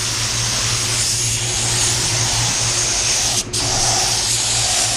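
A paint spray gun run at about 34 psi coats a Tesla car body with a steady, loud, close hiss over a low compressor hum, broken by one brief gap near the end.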